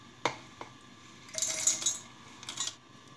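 Roasted spices tipped into a steel mixer jar, heard as a sharp clink followed by a short rattling, scraping burst of metal and dry pieces, then a second smaller clatter.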